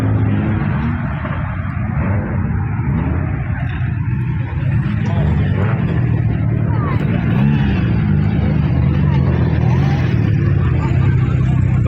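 Rough, rugged XC coupe running an R6 engine at a car meet at Parafield, a loud, steady low engine rumble idling close by for the whole stretch, with voices talking over it.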